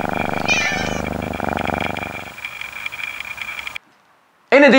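A cat meows and purrs in short, close, harmonic calls over a busy background mix, then a brief silence before a louder meow-like cry at the end.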